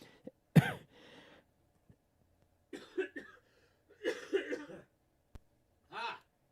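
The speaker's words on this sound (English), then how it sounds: "there's that cough again" A few short, sharp coughs close by, spaced out with quiet gaps between them and some throat-clearing mixed in.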